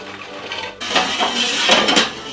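Rinsed, drained beans tip into a cassoulet cauldron with a sudden clattering rush against the pot, close and fairly loud after a quiet moment, with scraping as they settle.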